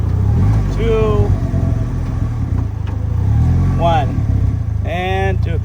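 A 2015 Polaris Slingshot SL engine rumbles steadily as the vehicle downshifts toward a stop, with someone talking over the low drone.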